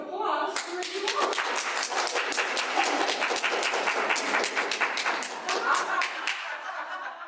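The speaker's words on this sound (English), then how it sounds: "Let's give a round of applause for you all." A room of women at a church district gathering gives a round of applause, many hands clapping steadily and fairly close, with voices murmuring underneath.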